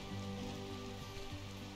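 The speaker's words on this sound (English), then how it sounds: "Oh, and look at that, it's raining." Rain in RimWorld comes through as a faint, steady patter and hiss with no breaks.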